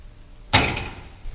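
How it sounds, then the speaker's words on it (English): A soft-close cabinet door on a Husky garage workbench shuts with a single muffled thud, followed by a quiet settling tail and a faint second knock. "It's got the soft closed doors,"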